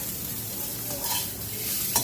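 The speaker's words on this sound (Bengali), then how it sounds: "উচ্ছেটা লাল করে ভাজা হয়ে গেছে" Bitter gourd frying in a pan gives a steady, close sizzle with faint stirring scrapes for a couple of seconds, no voices.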